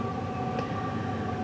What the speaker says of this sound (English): Sorry about the train. I have the windows closed too.